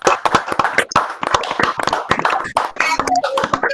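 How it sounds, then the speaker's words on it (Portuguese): Loud, dense applause from an audience thanking a professor at the close of a nanospintronics lecture, sharp individual claps crowding together over nearly four seconds with a little voice mixed in. "dar uma salva de palmas final em retribuição ao que o senhor nos proporcionou"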